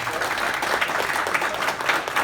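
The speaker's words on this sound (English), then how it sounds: "So if we could have a round of applause" A round of applause at a basic income congress session, steady dense clapping filling the whole stretch at moderate level with no voices over it.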